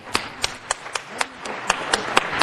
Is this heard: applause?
yes